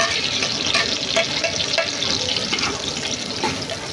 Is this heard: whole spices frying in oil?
yes